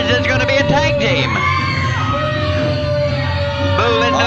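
A wrestling arena crowd booing and yelling, a loud dense wall of voices with drawn-out jeers and shouts that rise and fall throughout.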